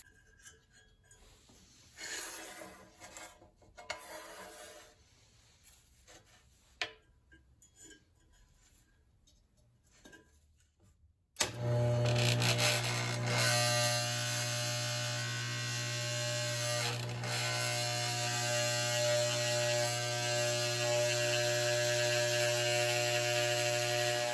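Scroll saw cutting a sheet metal pattern: after quiet handling clicks and taps, the motor starts abruptly into a loud, steady buzzing hum with a high metallic cutting whine that runs on without a break.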